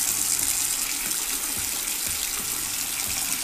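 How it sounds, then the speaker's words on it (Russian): Hot water gushes steadily from a bathtub tap, a continuous broadband splashing rush that stays loud and even throughout, with no voices. "я включаю горячую воду, прям горячую"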